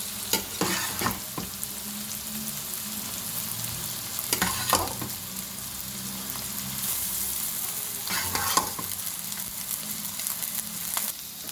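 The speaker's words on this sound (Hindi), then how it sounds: "इनको कर देंगे हम अच्छे से मिक्स।" Boiled rice being stirred into sizzling vegetables and chicken in a pan, a continuous frying sizzle broken by several scraping spoon strokes at intervals, close and moderately loud with no talk.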